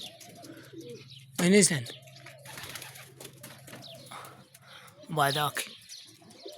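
Homing pigeons coo in bursts, with two loud close calls standing out from softer bird sounds and chirps, while people talk throughout.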